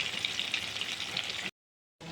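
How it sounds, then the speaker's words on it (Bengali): Tilapia fish fillet fries in hot oil in a pan, a steady close sizzle and crackle that runs evenly, then cuts out abruptly to silence before resuming briefly. "মাছটা হোক ভাজা"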